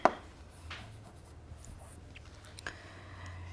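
Chalk or marker writes mathematics on a board during a lecture, a faint scratchy stroke after a sharp initial tap, with occasional light knocks against the surface.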